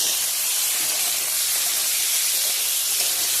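Boiled raw jackfruit pieces sizzle in hot oil in a pan as they are lightly fried and stirred, giving a continuous, bright frying hiss at close range.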